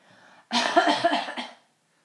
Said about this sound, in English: Please cut my cough out.